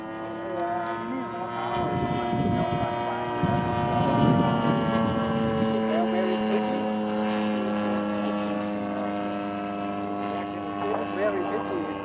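A radio-controlled Focke-Wulf FW-190 A-5 scale model plane on its maiden flight, driven by a Zenoah GT80 twin-cylinder gas engine, drones with a steady, tonal buzz that rises and falls slightly in pitch as it passes, while people talk nearby.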